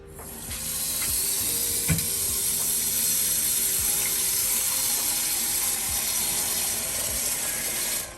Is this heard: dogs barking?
no